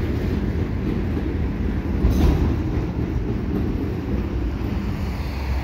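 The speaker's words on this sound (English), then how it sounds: "Yeah, that's the end of the train." A CN mixed freight train carrying transformer loads rolls past at the St Patrick Street Bridge as its final cars go by, making a steady loud rumble of wheels on rails with wind buffeting the microphone.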